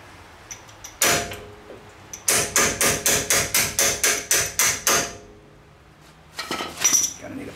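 Sharp metallic hammer blows ring out close by, knocking a part through on a Ford TTB front suspension: a couple of single strikes, then a rapid even run of about ten, and a final quick flurry.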